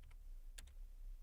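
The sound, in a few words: typing a command on a computer keyboard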